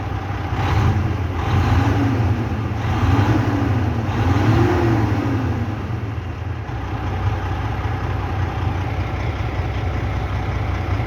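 Detroit 12.7 diesel engine transplanted from a Freightliner into a Volvo VNL truck, idling with a steady low drone and a few brief revs early on, loud and close, no talk.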